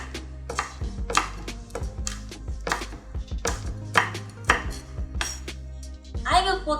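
Chili pods pounded in a small mortar while making Thai chicken rice, Khao Man Gai: a steady series of sharp, close thuds and knocks, roughly one or two per second, with a brief metallic clatter at the end.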